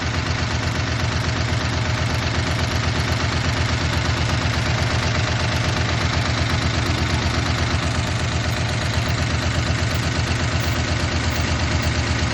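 A 1969 Chevrolet C10 pickup engine idles steadily, a loud, constant low rumble with a rough mechanical beat running unchanged throughout, no voices.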